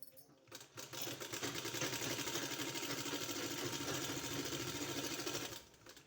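Sewing machine running steadily for about five seconds, stitching along a folded dupatta edge, with a fast even whirring hum that starts and stops abruptly at moderate closeness.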